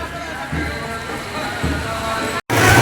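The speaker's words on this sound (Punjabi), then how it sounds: "ਵਰਦੇ ਮੀਂਹ ਦੇ ਵਿੱਚ" Steady rain hisses continuously over a Sant Kabir Jayanti procession, with faint murmuring voices underneath and a brief dropout near the end.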